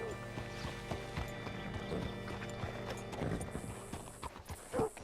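Horse hooves clip-clop steadily at a walking pace in the video game Red Dead Redemption 2, fairly faint, with a soft snort near the end and a low hum in the background.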